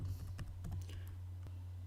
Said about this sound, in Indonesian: pada saat mengetik password memang tidak ada yang muncul, tapi apa yang diketikkan sudah terekam